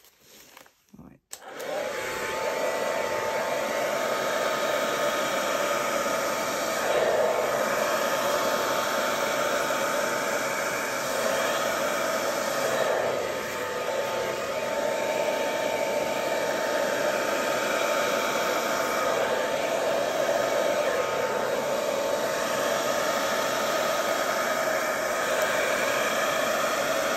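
A hair dryer blows out an acrylic Dutch paint pour, switching on after a brief click and then roaring loudly and steadily at close range for the rest of the stretch.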